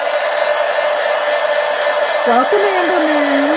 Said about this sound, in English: I'll hit it with the heat gun